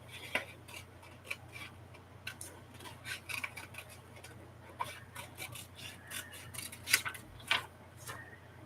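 Scissors cutting paper scraps for an ephemera craft, a run of soft, close snips and rasping cuts in an uneven rhythm, faint and alone.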